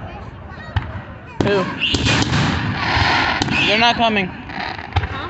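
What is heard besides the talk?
fireworks being set off outside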